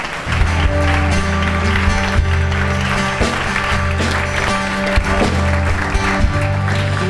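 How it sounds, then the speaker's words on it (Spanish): A church congregation applauds during a worship service, its clapping blended under sustained music with steady low instrumental tones, moderately loud throughout. "Denle un aplauso al Señor."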